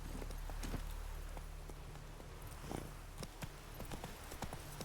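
In The Witcher 3 video game, a horse's hooves clip-clop in a quick irregular rhythm, moderately near and fairly quiet, over a low steady game hum.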